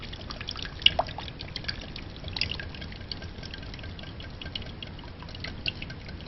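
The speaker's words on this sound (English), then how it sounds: "it's at this point that I put my oils in and I whisk" Extra virgin olive oil poured into an orzo salad dressing and whisked in a bowl, giving a soft continuous liquid swish with small irregular clicks and ticks from the whisk, close and fairly quiet.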